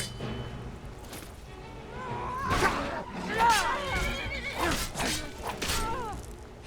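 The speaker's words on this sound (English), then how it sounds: "you are not killing my horse just after I got it" A horse whinnies and snorts several times in the video game Skyrim, amid combat thumps and clashes. A player's voice talks over parts of it.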